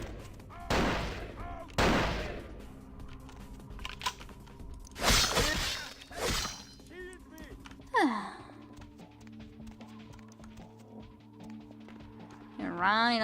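Gunfire in the video game Vampire the Masquerade: Bloodlines comes as a few sharp separate shots over a steady background hum, with a player talking and sighing in between.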